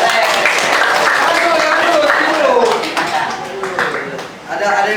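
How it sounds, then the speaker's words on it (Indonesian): A group of people claps in a classroom during a teaching session, the applause loud at first and then tapering off unevenly, with talking in the room mixed in. "Oh, ya tepuk tangan dulu."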